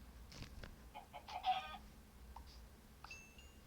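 A few quiet clucks from a Minecraft chicken, short and scattered, over a faint low background with a thin synthetic tone near the end.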